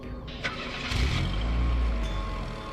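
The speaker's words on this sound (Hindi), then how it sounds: "चल गाड़ी चला।" A car engine cranks and catches, then settles into a low rumble as the vehicle pulls away, with a voice briefly heard nearby.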